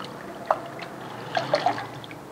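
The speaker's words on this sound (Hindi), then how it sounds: "2 पानी हमने आलूओं को धोना है" Potatoes being rinsed by hand in water, giving a few soft splashes and drips, one near the start and a small cluster of gentle sloshes later, close and quiet.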